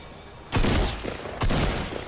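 Gunfire in the Fortnite video game, two loud, sharp bursts of rapid shots about a second apart, close and punchy against a quieter game background.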